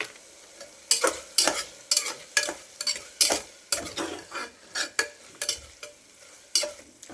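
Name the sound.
stirring garam masala into frying tomato bath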